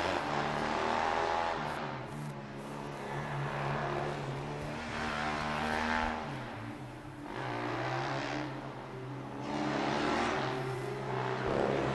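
Formula Student race cars lap during an endurance final, engines swelling and fading as they pass in repeated waves, a distant buzzing drone heard at moderate volume.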